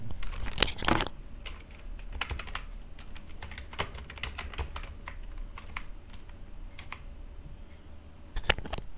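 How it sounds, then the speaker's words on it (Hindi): Keys clatter in steady bursts of typing on a computer keyboard, close and clear, with scattered louder clicks and no talking. "तो फिर हमने जोशी कंप्यूटर टाइप कर लिया है"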